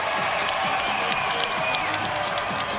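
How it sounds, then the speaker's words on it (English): A packed boxing arena crowd at Desert Diamond Arena applauds and cheers two fighters after a ten-round bout, a steady, dense wash of clapping and crowd noise that holds throughout at close range. "big round of applause for these two incredible warriors going the distance"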